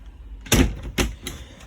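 A door closing inside a Burstner motorhome, heard as two fairly loud thuds about half a second apart, followed by a softer knock and fading rattle in a quiet interior.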